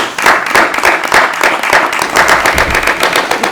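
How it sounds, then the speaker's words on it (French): Wedding guests at a French civil ceremony in Givors applaud together, a dense, steady burst of many hands clapping close by that fills the whole moment without pause. "On peut applaudir."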